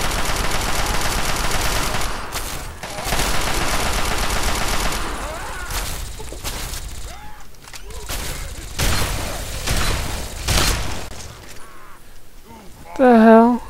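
Gunfire in the video game Fallout 3: rapid automatic bursts and single shots in several volleys with pauses between, loud and close, with a player talking over parts of it.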